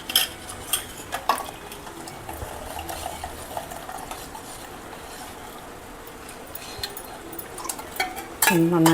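A pot of melted saffron and turmeric soap base is stirred, giving steady soft scraping and clinking of a utensil against the pot, with a louder knock near the end.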